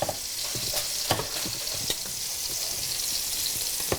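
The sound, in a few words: chicken browning in a frying pan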